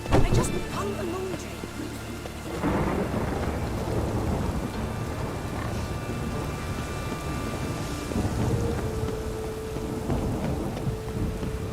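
Rain pours steadily during a thunderstorm in The Witcher 3, with a loud thunder crack at the start and a dense, continuous hiss of rainfall afterward, a voice faintly present.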